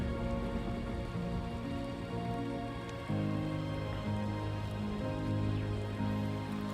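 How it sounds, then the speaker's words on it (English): Steady rain falls in the video game Death Stranding 2, a continuous hiss of drops on surfaces under layered game music, with no talking. "get some of that healing rain"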